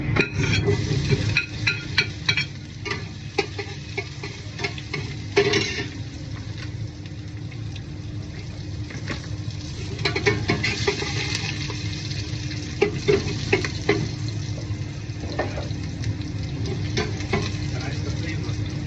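Garlic, onion and ginger sauté in a pan for chicken tinola, giving a steady low sizzle with occasional stirring clatter through the whole stretch, and a voice talks over it at times.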